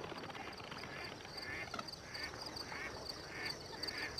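Flocks of birds at a refuge in central Arabia, faint repeated nasal calls and quacking notes rising in short bursts over a soft background hiss.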